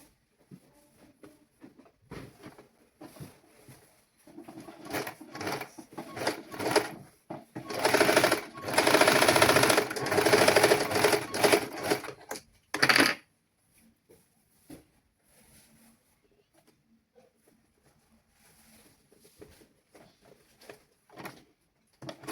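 A domestic sewing machine stitches a pleated frock in a tailoring lesson, running in a steady whirring burst for several seconds, with softer intermittent clicks and fabric handling before and after.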